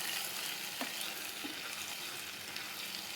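Avarekalu kurma being stirred in a pan after water is added, a steady bubbling simmer with faint scrapes of a spoon, continuous and fairly quiet without any talking.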